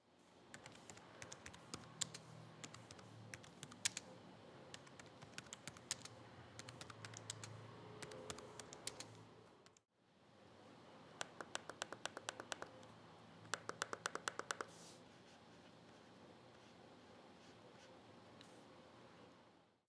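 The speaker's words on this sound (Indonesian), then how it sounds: "contoh suara dari feedback keyboard dan juga touchpad-nya" Keyboard and touchpad feedback on a One XPlayer 2 handheld, a quiet series of crisp clicks and taps in uneven bursts, with a brief pause midway and sharper clustered clicks near the end.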